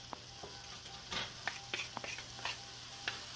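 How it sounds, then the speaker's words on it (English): Onions, carrots and celery sautéing together in a pot, giving a soft close sizzle with scattered stirring scrapes and clicks of a utensil, with no talk over it. "So while I'm sauteing my onions"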